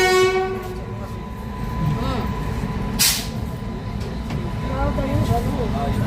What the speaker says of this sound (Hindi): सामने पैरेलल अराइवल हो रहा है कर्नाटक एक्सप्रेस के साथ, बेंगलोर नई दिल्ली कर्नाटका सुपरफास्ट